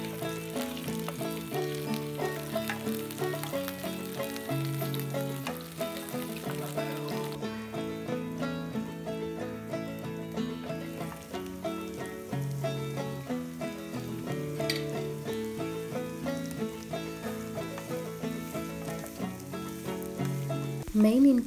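Chopped onions, green chillies and curry leaves frying in a pan for poori masala, a steady sizzle running under continuous music.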